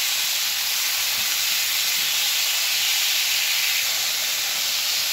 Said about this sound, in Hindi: अब मैं इसके अंदर चिकन ऐड कर रही हूँ। चिकन को सोते करेंगे